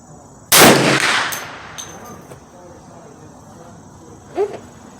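A single sharp gunshot from a Hi-Point 1095 10mm pistol fired at an outdoor range toward a 100-yard target, loud and close, followed by quiet ambience with insects and a faint brief sound later.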